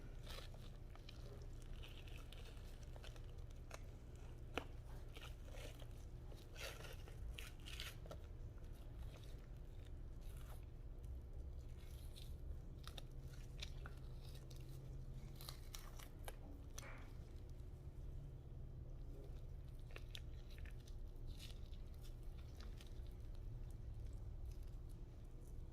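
Fingers peeling the thin membrane off a rack of lamb by hand: faint, close, sticky crackling and soft tearing ticks scattered steadily throughout, quiet and alone.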